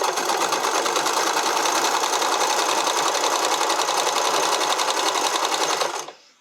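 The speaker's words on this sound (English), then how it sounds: "So what you're doing is stitching right over the edge of the elastic here" A sewing machine stitches over the edge of elastic at a keyhole neckline with a fast, even whirring rattle. The run stays loud and close, then slows and stops near the end.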